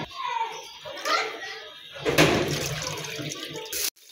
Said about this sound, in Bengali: লাউ পাতাগুলো ধুয়ে নেব এখন।